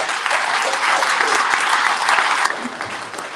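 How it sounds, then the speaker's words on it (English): A crowd at a Republican primary debate and town hall claps steadily, a full, even wash of applause that holds throughout and eases slightly toward the end. "Let's give a round of applause to our sponsors, volunteers, and debate participants."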